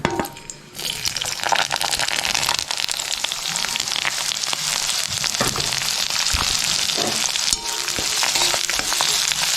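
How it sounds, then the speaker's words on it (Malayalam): Chopped onions and curry leaves frying in hot oil for a jackfruit dish, a dense, steady sizzle with crackling pops throughout, loud and close with no talk. "എണ്ണ ചൂടായി വന്നിട്ടുണ്ട് ഇനി ഇതിലേക്ക് സവാള അരിഞ്ഞു വെച്ചതും പിന്നെ കറിവേപ്പിൻ്റെയും ചേർത്ത് കൊടുക്കാം"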